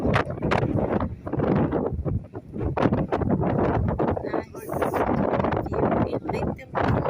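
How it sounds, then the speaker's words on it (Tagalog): Strong afternoon wind blows at a lookout above Lyttelton port in Christchurch, New Zealand. Rough, gusty buffeting roars close on the microphone throughout, rising and falling in uneven surges. "Very windy in the moment."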